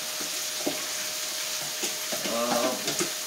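Ackee cooking in a pot, with a steady bright sizzle of frying and scattered scraping stirs over it, close and continuous.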